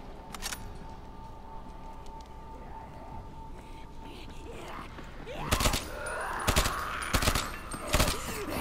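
Gunfire from a gun in the video game Dying Light: after a stretch of low background game noise, several loud, sharp shots ring out at irregular intervals in the second half.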